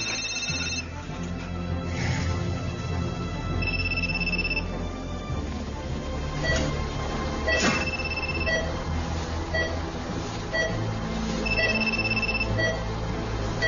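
A mobile phone ringtone rings steadily in repeated electronic bursts, fairly close and clear above a low background hum, with no talking over it.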